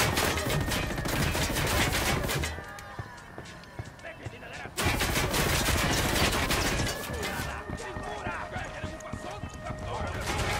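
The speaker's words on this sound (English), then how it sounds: "Shots fired. Unidad's engaging the cartel." Gunfire crackles in Tom Clancy's Ghost Recon Wildlands as Unidad soldiers engage cartel fighters, dense bursts of shots in two loud stretches with a brief quieter lull between, mixed with other game noise and voices.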